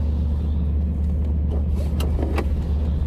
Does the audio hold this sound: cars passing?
yes